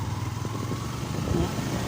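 A 2019 Yamaha Sniper 150 motorcycle idles low and fairly faint as the clutch is eased out and throttle is added, the engine note rising slightly toward the end.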